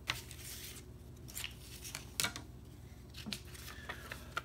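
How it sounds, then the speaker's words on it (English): Scissors snip through paper to cut out small squares, a few quiet crisp cuts spaced irregularly at close range with soft paper rustling between them. "So you're going to cut out four of these squares."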